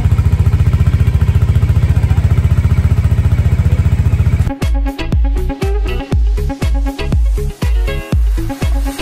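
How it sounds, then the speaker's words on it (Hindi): A Bajaj Dominar 400 idles with a fast, steady low exhaust thrum, then its engine is blipped in a series of sharp, loud revs, close by with no talk. "एंड ऑफकोर्स इस वजह से उसकी एग्जॉस्ट नोट भी काफ़ी चेंज हो गई है"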